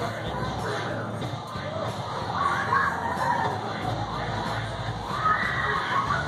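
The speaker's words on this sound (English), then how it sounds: "I can hear them screaming." Children shouting and screaming at the Wonder Works attraction in Orlando, a steady crowd roar with louder bursts of excited voices rising and falling throughout, fairly close and continuous.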